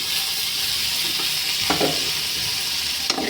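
Carrots, capsicum, green chilli and other vegetables frying in a pan for upma, a steady close sizzle with a few brief stirring scrapes and clinks.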